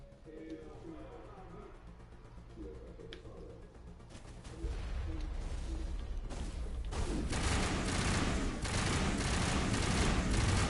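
Gunfire in Mass Effect 1, quiet at first with sparse sounds and talk, then swelling into loud continuous shooting over the last half.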